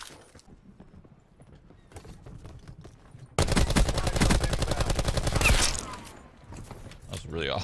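Toy foam blasters fire during a backyard Nerf war, a dense burst of rapid mechanical clatter starting abruptly mid-clip and running for a couple of seconds, loud and close, with quieter rustling and handling noise before and after.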